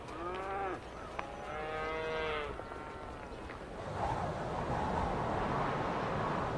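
Cattle mooing on ranch land near Yellowstone, a few low drawn-out moos up close, then steady wind or rushing outdoor noise.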